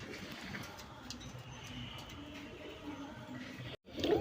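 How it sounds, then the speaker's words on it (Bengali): Male pigeon cooing with females answering from nearby, the low murmuring coos steady and fairly quiet through most of the clip before a short cut. "এই যে নরের ডাকটা, আর এই যে মাদিরা সারা দিতেছে ওই পাশ থেকে"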